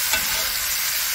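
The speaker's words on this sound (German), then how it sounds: "Immer schön wenden, schön anbraten." Rabbit pieces searing in a Dutch oven, a steady close sizzle and frying hiss with a brief stirring scrape near the start, no voices.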